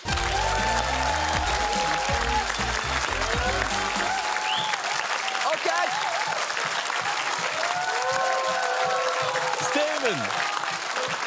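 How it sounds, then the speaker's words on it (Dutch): Loud, sustained applause from an audience, steady clapping throughout with some cheering and music tones fading out early on. "Geef hem een niet zo artificieel, maar wel heel super intelligent applaus"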